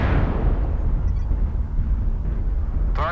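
Incoming missile explosion in a video game, a loud, continuous low rumbling blast that holds steady and fades slightly, with a brief sharp burst at the very end.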